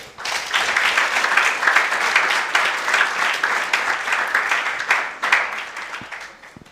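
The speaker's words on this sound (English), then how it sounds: "Let's give a formal round of applause." A large audience applauds at an inaugural Grand Masters address, steady and dense clapping filling the hall for several seconds before tapering off.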